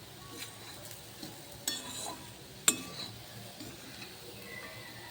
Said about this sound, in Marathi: बारीक केलेली चपाती त्यामध्ये घालून घेऊया आणि हे व्यवस्थित मिक्स करून घेऊया।